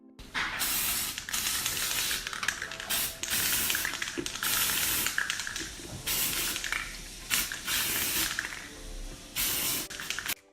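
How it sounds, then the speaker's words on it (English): Aerosol can spraying in a series of short, close hissing bursts with brief pauses between them, no voices. "We're just going to spray it all over the heart."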